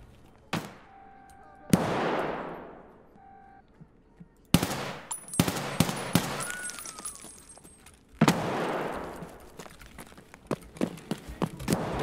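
Gunfire in the Escape from Tarkov video game: sharp shots and short bursts, some loud and near, others farther off, each trailing into echoing decay, with talk in between.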